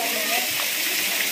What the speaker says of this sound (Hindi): और ये झरना जो महेशमति साम्राज्य से आ रहा है